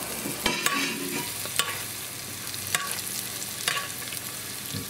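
Scallops sear in garlicky butter in a very hot pan, a steady loud sizzle broken by several sharp scraping spoon strokes as butter is basted over them.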